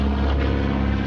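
A propeller airplane flying an aerobatic stunt routine drones with a steady, loud engine hum that stays constant over a second, with no voices.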